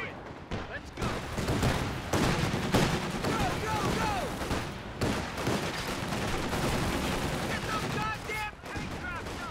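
Gunfire rattles through a Company of Heroes 2 battle, a USF Urban Assault 4v4 match on the Road to Arnhem map, with dense rapid bursts and scattered shots alongside nearby talk.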